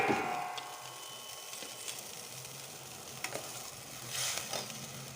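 A pan of water for a Bengali mustard fish curry with rohu bubbles at a boil, a steady close hiss and sizzle with a few faint clinks and no talking.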